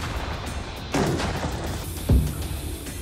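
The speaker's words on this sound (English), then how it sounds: "So the second explosion happens" Two dynamite explosions go off outdoors during a Mythbusters test, a first dull boom followed about a second later by a sharper, deeper blast, both heard from a distance over background noise.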